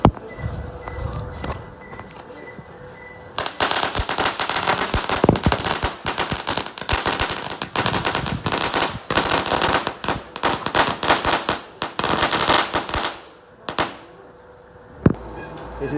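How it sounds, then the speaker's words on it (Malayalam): A Crackling Express firecracker string bursts at a Vishu celebration, a dense, loud rapid chain of sharp pops and cracks running for many seconds, brief gaps near the end and a final crack. "ക്രാക്ലിംഗ് എക്സ്പ്രസ് എന്ന് പറഞ്ഞിട്ട് നമുക്കിത് പൊട്ടിക്കാം മാലപ്പടക്കം പോലത്തെയാണ്"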